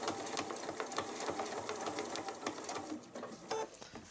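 Domestic sewing machine stitching a quilting line with a Westalee ruler foot, a steady rapid mechanical whir and needle chatter heard close up and alone throughout.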